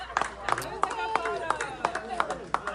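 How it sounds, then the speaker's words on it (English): A crowd claps in a steady rhythmic beat of sharp, evenly spaced claps, with voices talking over it. "everybody's clapping"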